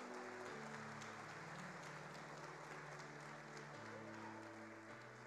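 A church congregation claps through a continuous patch of applause at an evening worship service, fairly quiet overall, with sustained low keyboard or organ tones holding underneath.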